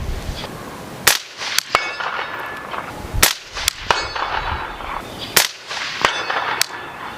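Rifle shots from a BRN180 Gen 3 at a steel target 175 yards away ring out as sharp cracks, several spaced a second or two apart, loud and close, with some followed by a faint distant ping.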